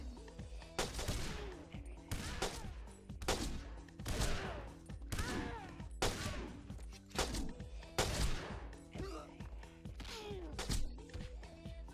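Rapid bursts of shotgun and automatic gunfire in the video game 007: Everything or Nothing, loud and close, in repeated clusters with brief pauses between volleys.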